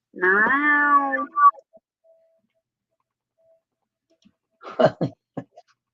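A cat lets out a long, clear meow, then after a pause makes a couple of short, chirpy vocal sounds nearby.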